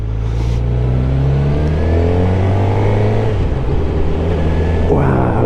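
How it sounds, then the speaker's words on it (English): A 2016 Suzuki GSX-R750 L6 motorcycle engine revs loudly and close, its pitch climbing and dropping through gear shifts with a steady throaty drone and wind noise. "Wow, check me out on my gear shifts"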